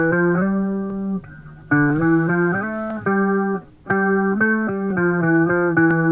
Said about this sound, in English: we had the bass line that complements this piano line.